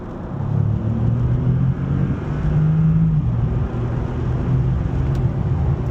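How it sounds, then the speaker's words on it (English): A 2025 Bentley Continental GT Speed in sports mode drives through a tunnel, its engine a loud, deep, sustained drone with shifting low tones and reverberant rumble, steady throughout with no talk. "the obligatory sound check has to be done"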